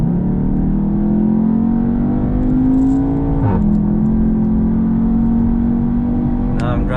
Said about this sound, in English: Now I'm driving in dynamic mode, and really you can feel this car just accelerate.